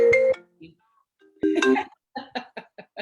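A phone ringing through a connected computer gives a few short electronic tones, then a louder burst with a run of brief repeating pulses near the end.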